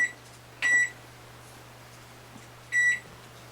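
A Black & Decker 1.1 cu ft 1000-watt microwave and air fryer control panel gives two short, clear electronic beeps spaced about two seconds apart, with a low steady hum underneath.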